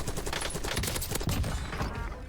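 Rapid gunfire in a Call of Duty Warzone match: a dense, loud fusillade of overlapping shots that rattles continuously with no pauses between bursts.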